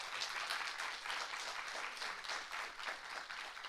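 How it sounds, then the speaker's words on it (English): An audience at a speaking event applauds to welcome a guest speaker, a faint, steady wash of many hands clapping from a distance. "Everybody give her a round of applause"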